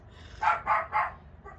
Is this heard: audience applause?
no